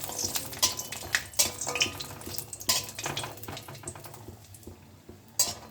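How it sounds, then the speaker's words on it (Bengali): Bori lentil dumplings fry in hot mustard oil with a steady sizzle, broken by scrapes and clinks of a spatula stirring against the pan, close and fairly loud with no talking. "তেলটা গরম হয়ে গেছে, এবার প্রথমে বড়িগুলো ভেজে নেব।"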